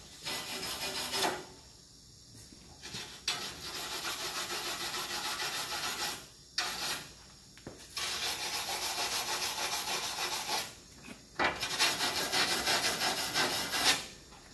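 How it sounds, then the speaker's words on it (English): A wire brush scrubs over stainless steel TIG welds in repeated strokes, a gritty rasping that comes in several bursts separated by short pauses, close and moderately loud with no talking. "I think the only thing left to do is really brush these welds."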